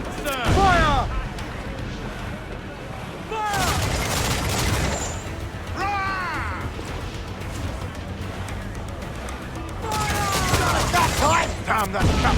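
Cannons on a sailing ship boom in heavy rolling volleys during an Assassin's Creed IV Black Flag sea battle, loud bursts separated by lulls, with voices shouting among the blasts.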